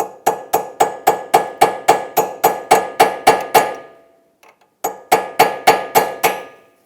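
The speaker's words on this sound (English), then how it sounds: "You can easily do that with a chisel or a punch and a hammer." Sharp metallic hammer taps on a punch, staking the axle nut of a 2003-2008 Toyota Matrix, ring out in a steady, quick rhythm, pausing briefly before a second run of evenly spaced strikes.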